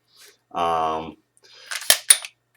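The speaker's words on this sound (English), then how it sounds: "We can safety check both of them, make sure there's nothing going." Two handguns, a Springfield XDM 5.25 and an M&P Pro, get a safety check. A brief voice-like hum comes first, then a short flurry of crisp metallic clicks and snaps from the slides and actions, close and fairly loud.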